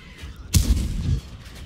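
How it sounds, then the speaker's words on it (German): A single tank cannon shot in World of Tanks on the Studzianki map, one sharp, loud boom with a short rumbling tail, alone without talk. "alles klar, ich nehme den Schuss."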